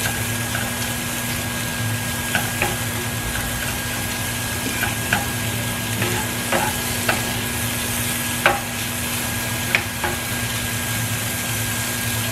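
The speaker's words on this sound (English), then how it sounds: "Okay, so bacon going, and it comes together really quick" Bacon frying in a pan, heard as a soft, continuous sizzle under a steady hum, with scattered sharp pops and spatters.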